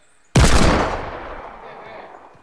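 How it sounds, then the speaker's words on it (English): A single loud gunshot in Fortnite, a sharp close blast after brief silence that rings out and decays slowly over two seconds. "He's trying to shoot me."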